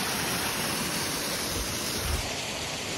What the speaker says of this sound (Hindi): छोटा झरना